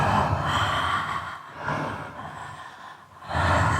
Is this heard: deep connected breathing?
yes